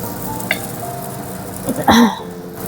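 Chopped ingredients dropped into lightly heated oil in a pan, giving a sudden burst of sizzling after a few soft clinks and handling noises, close and fairly loud.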